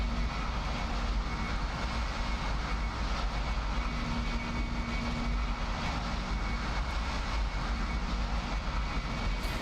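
Boeing 767 from Flight Factor in a flight simulator, FedEx flight from Memphis to Tampa: a steady, loud engine roar with a low rumble and airflow hiss holding evenly throughout, no voices.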